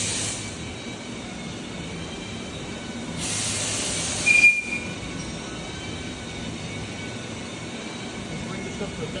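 A TRAK CNC bed mill's quill feeds down under power, producing a steady mechanical whir and hum with a brief higher hiss partway through and a sharp click around the middle.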